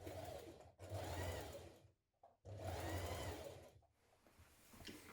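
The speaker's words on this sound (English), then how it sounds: "We're now going to stitch that in place." A sewing machine stitches a coat lining in place in two long close whirring runs with a short gap between, then quieter fabric handling, no voices.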